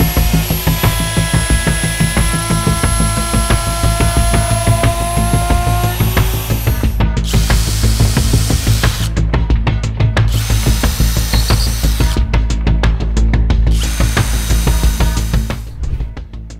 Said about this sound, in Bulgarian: Сега мога да копирам формата прецизно с оберфрезата.